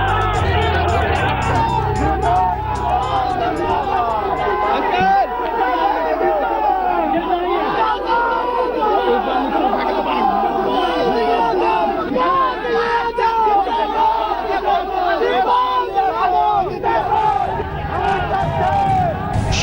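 A large crowd of Samajwadi Party workers shouting slogans at a rally for Shivpal, loud overlapping voices chanting and cheering in rhythmic bursts, continuous and dense throughout.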